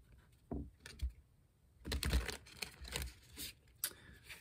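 Soft, quiet bursts of papery riffling and tapping, a few short shuffles of a tarot card deck separated by brief pauses.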